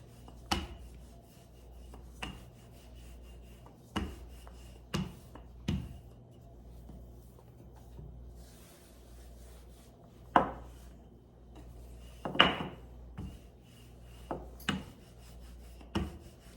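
A floured rolling pin works over pie crust dough, giving a series of separate, dry rubbing and rasping strokes with quiet gaps between them, heard fairly close with no talking.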